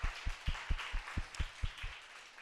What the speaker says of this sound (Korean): 우리 선배들이 한번 큰 박수로 격려했으면 좋겠습니다